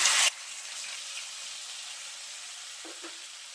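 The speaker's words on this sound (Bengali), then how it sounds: "এখন আমি আগে থেকে পেস্ট করে রাখা টমেটো পেঁয়াজের পেস্টটা দিয়ে দিচ্ছি" Tomato and onion paste is dropped into hot oil for an egg omelette and potato curry, giving a loud burst of sizzle that quickly settles into a steady, softer frying hiss with a couple of faint scrapes near the end.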